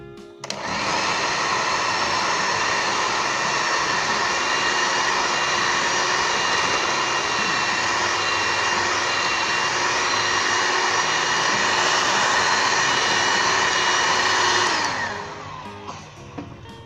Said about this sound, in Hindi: मैं सब कुछ बीटर्स के साथ करूँगा